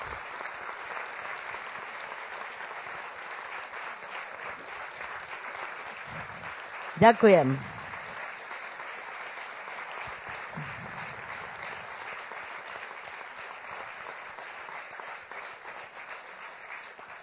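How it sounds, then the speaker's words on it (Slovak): An audience applauds a guest at a Slovak stage event, with dense, steady clapping throughout and a brief spoken thank-you partway through. "Toto je váš potlesk."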